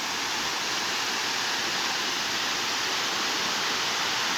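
A waterfall at Natural Falls State Park, Oklahoma, gives a steady, close, full rushing roar of falling water that holds level throughout with no voices.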